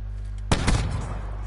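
A single loud, close shotgun blast from Call of Duty Black Ops 4, with a short booming tail over a low steady game hum.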